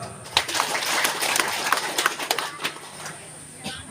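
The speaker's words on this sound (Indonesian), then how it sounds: "Mari kita tepuk tangan." A gathering at the opening of a village cooperative's head office claps briefly and unevenly, with scattered sharp hand claps and some background voices, thinning out toward the end.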